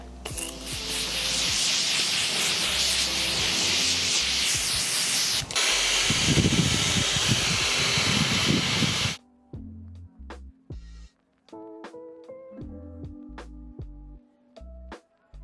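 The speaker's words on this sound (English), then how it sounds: "I'm gonna go in with this Morphe setting mist." A steady pressurized hiss of Morphe makeup setting spray misting onto a face for several seconds, then it stops and a few light taps and clicks follow in a quiet room.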